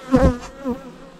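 A crowded, agitated honeybee colony buzzes at the hive in short, close bursts, with one loud buzzing swell followed by a softer second one.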